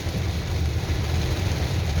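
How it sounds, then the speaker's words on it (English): Steady rain pours down in Pattaya, a constant dense hiss with a low rumbling undertone, filling the scene evenly with no voices. "as today it has been raining since 2 o'clock."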